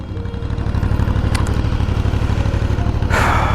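Aprilia Shiver 900 Italian motorcycle engine idling up close, a steady low pulsing throb with mechanical clatter, broken by a brief hiss near the end.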